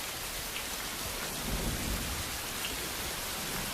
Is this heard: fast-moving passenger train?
no